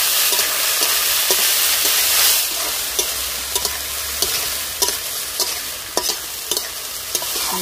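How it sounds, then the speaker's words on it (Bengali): Banana flower being stirred with spices and potatoes in a pan, village style, a bright steady sizzle punctuated by regular sharp scrapes and taps of the spatula. "ভালো করে মশলার সঙ্গে আলুর সঙ্গে আমি নেড়ে চেড়ে মিশিয়ে নিয়েছি"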